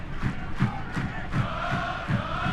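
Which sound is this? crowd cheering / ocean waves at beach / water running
crowd cheering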